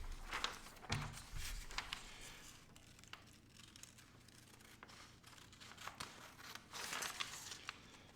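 Styrofoam lunch tray being cut with scissors into rocket fins, a series of crisp snips and crinkly tearing scrapes, close and fairly quiet, in irregular bursts.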